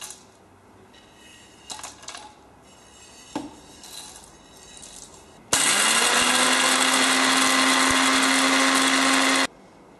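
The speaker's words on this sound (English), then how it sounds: "I'm going to grind these into a fine powder" A blender-style spice grinder whirs loudly and steadily for about four seconds as it powders green and black cardamom, cinnamon, black pepper and star anise for chicken kachi biryani, preceded by faint clinks of whole spices being loaded.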